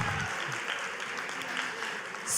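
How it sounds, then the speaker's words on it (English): A town hall audience applauds itself, a steady wash of clapping held at a moderate level from start to finish with no talk over it. "Let's give ourselves a round of applause."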